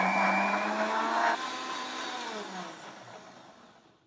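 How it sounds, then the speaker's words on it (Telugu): A mixer grinder blends jaggery with about 250 ml of water, running loud and steady near the mic with a whirring drone before slowing and fading as it winds down. "మిక్సీ పట్టేసుకుందాం."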